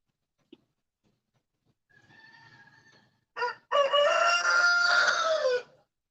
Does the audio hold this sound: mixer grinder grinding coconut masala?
no